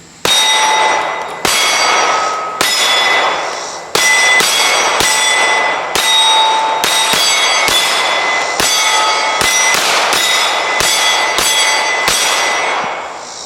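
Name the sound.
Springfield Armory Echelon 9mm pistol shots hitting steel plates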